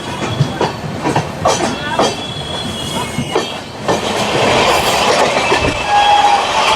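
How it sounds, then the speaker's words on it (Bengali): The Kolkata–Sairang Express rolls slowly through platform 1 at Ranaghat Junction, its wheels clattering over joints and squealing against the rails, with a brief horn-like tone near the end. "খুব ধীর গতিতে আমাদের এই নতুন কলকাতা সাইরাং এক্সপ্রেস পার করে যাচ্ছে রানাঘাট জাংশনের 1 নম্বর প্ল্যাটফর্ম থেকে"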